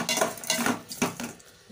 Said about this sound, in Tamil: வெங்காயம் தக்காளி பச்சை மிளகாவை சேர்த்து நல்லா வதக்கிக்கணும்